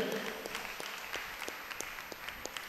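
Scattered, fairly faint clapping from a church congregation welcoming new leaders at a special mass, individual claps audible in an uneven rhythm.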